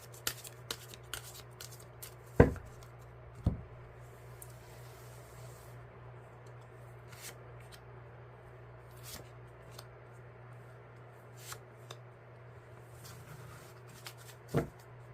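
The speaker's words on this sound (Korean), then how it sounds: "제가 카드 3장 뽑아볼게요" Tarot cards being shuffled and drawn from the deck, soft papery slides and flicks with a few sharper taps, close but quiet against near-silence, arriving in scattered bursts.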